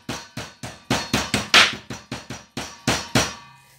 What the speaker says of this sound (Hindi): मैंने छुरी के साथ इसको थोड़ा सा ऊपर से ये टक वगैरह लगाए हैं